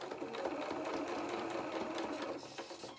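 A sewing machine runs steadily for about three seconds, stitching the head seam of a fabric hedgehog doll, a continuous close mechanical whir with a quick repetitive needle rhythm and no talk.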